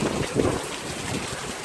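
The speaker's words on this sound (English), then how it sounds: "Raining's getting in my eyes." Steady rain falls outdoors during traditional ploughing in Botswana, a broad continuous hiss with soft low rumbling beneath it, fairly close and even throughout.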